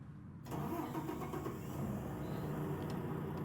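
A truck engine cranks and catches with a sudden onset, then settles into a steady, loud rumbling idle that stays close and continuous.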